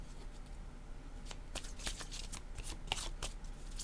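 A deck of tarot-style cards is shuffled for a card reading, with a series of quick, crisp riffling bursts close up and no speech.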